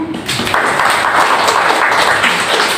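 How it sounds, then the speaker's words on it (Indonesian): A classroom full of students clapping, a dense steady patter of applause that starts quickly and holds for a few seconds. "boleh kasih tepuk tangan"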